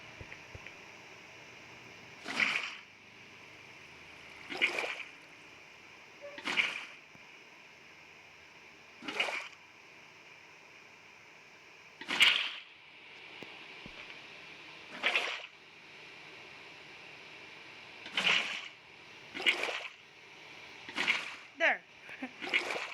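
Water splashes from an infinite water generator in a video game, about a dozen short bright bursts spaced a couple of seconds apart, quickening near the end over a faint steady hum.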